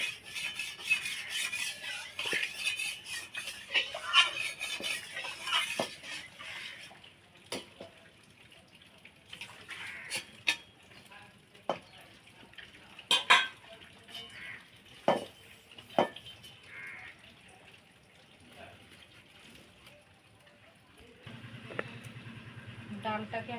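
A kadai (wok) being washed in a kitchen sink gives irregular metallic knocks and scrapes with splashing water, fairly close, between quieter gaps.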